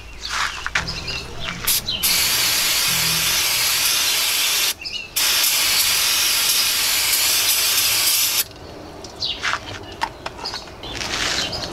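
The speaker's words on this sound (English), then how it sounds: "now I can take some brake clean." Brake cleaner is sprayed onto an A/C clutch from a 2000 Jeep XJ in short, loud, hissing bursts with brief pauses, followed by lighter handling clatter.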